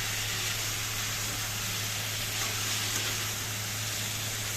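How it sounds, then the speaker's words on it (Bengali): Dal and chopped vegetables frying in a pan for daliya, a steady close sizzle with broad hiss and a low hum underneath, continuous with no talking. "ডালটাকে দিয়ে সবজিগুলিকে ভালো করে ভেজে নিই"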